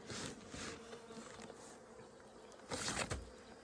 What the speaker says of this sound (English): bees in hive number 1 here are not happy